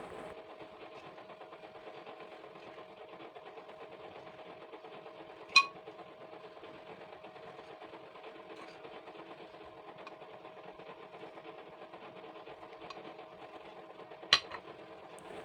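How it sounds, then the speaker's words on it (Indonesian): An electric mixer blends cheese cookie dough after powdered milk and cornstarch are added, with a steady even motor whine running throughout and two brief sharp clicks. "Lalu di mixer kembali sampai tercampur rata saja ya."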